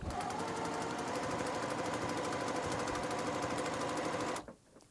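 A sewing machine running steadily and close, stitching diagonal seams on quilt fabric in a rapid even chatter that stops abruptly near the end.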